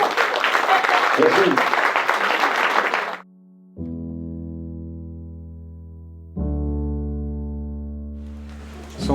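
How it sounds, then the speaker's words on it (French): An audience applauds the children sailors at the Dhream-Cup sailing event, a dense burst of clapping for about three seconds before it cuts off, followed by sustained electronic tones. "On vous applaudit encore une fois les enfants."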